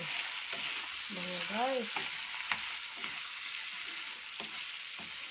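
Chili flakes are stirred into a buttered shrimp sauce in a pan, giving a constant close sizzle with scattered spoon scrapes, while a voice speaks briefly near the start.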